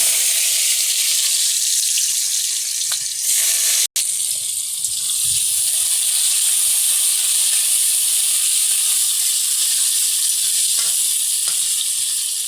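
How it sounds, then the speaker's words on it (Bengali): Salted jackfruit seeds frying in hot oil, a loud, dense, continuous sizzle up close, broken by one sharp click, then settling into a steady hiss. "তেল গরম হয়ে গেছে, এতে আমি বীজগুলো ছেড়ে দিচ্ছি।"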